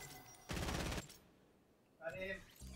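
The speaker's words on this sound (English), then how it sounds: "You're taking heavy fire down here." Gunfire in the video game Fortnite, a short dense burst of rapid shots lasting about half a second, followed by a brief voice.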